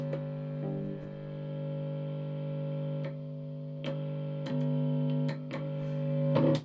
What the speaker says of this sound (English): But if I put on tons of distortion.